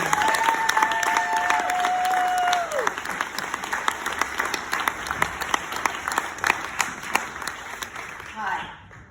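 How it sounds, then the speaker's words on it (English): Audience at a stand-up comedy show applauding, a dense wash of clapping that thins into scattered individual claps toward the end, with some cheering and crowd voices mixed in. "applause"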